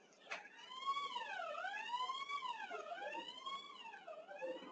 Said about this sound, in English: there's some alarm which is on.